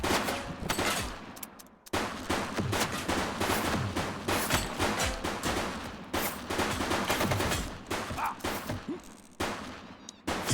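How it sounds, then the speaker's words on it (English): Rapid bursts of gunfire from a police shootout in the video game The Precinct, dense repeated shots crackling loudly in quick succession with brief gaps between volleys. "Shots fired!"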